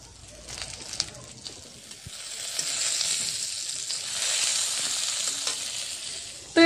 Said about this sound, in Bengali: আর এদিকে দেখো আমার পটল ভাজাটাও হয়ে গিয়েছে